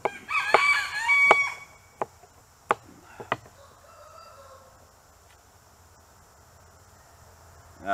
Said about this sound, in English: It's a problem when you have chickens that you hand raise.